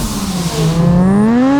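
A turbocharged 13B rotary engine in a custom-built Datsun 1200 revs up close and loud, its buzzing tone climbing steadily in pitch over a brief stretch.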